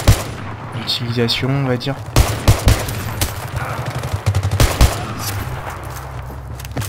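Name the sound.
SV98 sniper rifle shots in a video game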